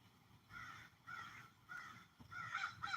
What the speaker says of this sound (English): The crows come through.